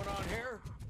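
Rapid gunfire crackles in RoboCop: Rogue City, a quick volley over about a second, partly under a voice.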